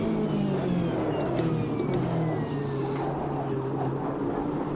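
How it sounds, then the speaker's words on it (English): Inside a racing car in the AMS2 video game with the Racin' USA pack, a steady loud engine drone fills the scene, with faint tyre scrubbing and light skidding textures riding over it throughout. "you hear the scrubbing and the slight skidding noises"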